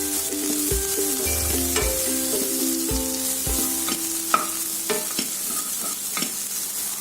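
Spiced samosa filling with garam masala and amchur powder stirred in a hot pan: a continuous sizzle under repeated scraping and knocking of the spoon against the pan, sharp clicks at irregular intervals, no voices.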